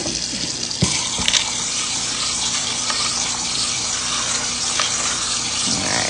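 Pinto beans get rinsed in a colander under a running tap, a loud continuous rush of water with a few clatters of beans and metal; a voice speaks briefly at the start.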